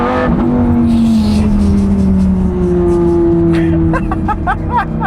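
A loud sports car engine drones and revs up, its deep exhaust note climbing and falling, close by with no talking.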